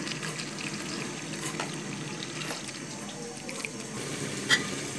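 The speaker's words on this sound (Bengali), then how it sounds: "আর এই যে বিচি আমরা ভালো করে এখানে বেসিন ধুয়ে নিব।" Jackfruit seeds being washed under running water in a kitchen sink basin, a steady faint hiss of flowing water with light clinks and rubbing, no voices.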